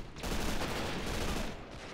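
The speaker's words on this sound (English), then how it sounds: "Now we have tanks fighting each other." Tank battle in the PC game Men of War: Assault Squad 2, a dense, continuous roar of gunfire and explosions that swells after a brief start and holds steady for two seconds with no talk.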